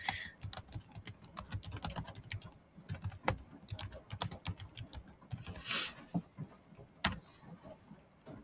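Rapid, uneven keystrokes on a computer keyboard while writing text in a Scrivener project, close and clear, in bursts with brief pauses and no talk.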